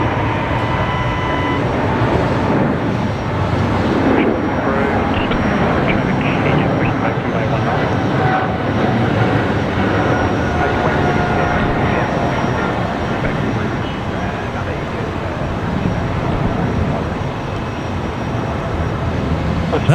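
A USAF C-17 military transport climbs out at Brisbane Airport, a broad, steady jet roar lasting the whole stretch at close range, with voices talking over it.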